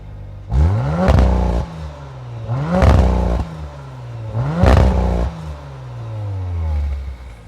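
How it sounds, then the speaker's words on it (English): Three sharp revs from an Audi RS5 with the competition package's upgraded RS Sport exhaust, each blip rising quickly and then settling back to idle, evenly spaced, loud and close with no talking. "you get an RS Sport exhaust system that's been upgraded to sound better. Let's take a listen."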